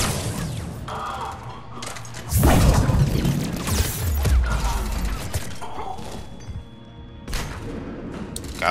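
A grenade goes off in the video game Mass Effect 3 during a firefight: a deep, heavy blast with a rumbling low-end burst lasting a few seconds, surrounded by gunfire, metallic clatter and game effects.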